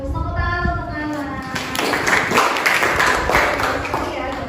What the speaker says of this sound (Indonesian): Tepuk tangan untuk anak.